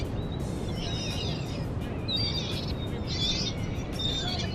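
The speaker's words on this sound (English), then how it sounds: "Feeding these birds." Small birds chirp in short bursts of bright, twittering calls while being fed outdoors, repeated every second or so over a steady rushing background, moderately close and fairly quiet.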